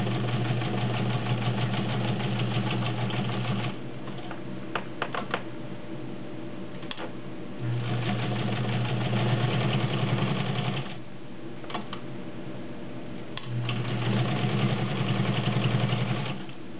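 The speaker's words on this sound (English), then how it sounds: "is the Kenmore 1207 Vintage Heavy Duty Sewing Machine" A vintage Kenmore 1207 heavy duty sewing machine stitches through two layers of suede leather. Its motor whirs in three loud, fast-chattering runs, with quieter pauses between them that carry a few clicks.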